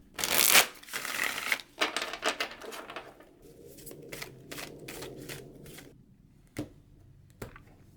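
Tarot cards being shuffled and drawn, a burst of riffling and flicking in the first few seconds, then quieter handling and a couple of crisp card snaps near the end, with no talking.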